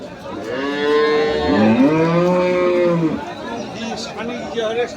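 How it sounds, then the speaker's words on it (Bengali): A dairy cow moos at a cattle market in Kaharol, Dinajpur, with one long, loud, drawn-out call rising and falling over steady crowd chatter and bustle. "এটা হচ্ছে গাভি"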